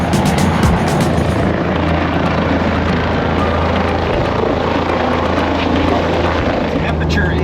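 A loud helicopter roars nearby with a constant thumping rotor drone that fills the whole stretch, steady and unbroken.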